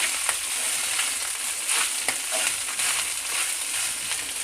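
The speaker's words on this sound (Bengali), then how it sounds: "এটাকে আস্তে আস্তে এবার আমি নেড়ে দেবো।" Cooked rice for lemon rice is stirred and tossed in a hot frying pan, a steady sizzle with soft scraping strokes of the spatula running through, close and continuous with no talking.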